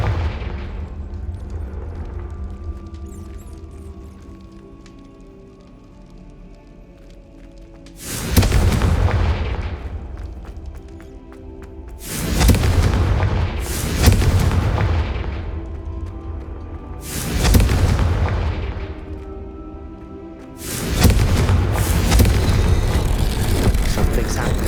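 Confringo blasting spells go off in Hogwarts Legacy as a run of five heavy booming explosions after a quieter stretch, each a loud close blast with a rumbling tail.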